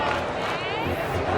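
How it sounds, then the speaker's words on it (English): Baseball fans cheer in a ballpark during a Phillies game, a steady broad crowd roar with babble that holds throughout at close, loud level. "the fans are still cheering"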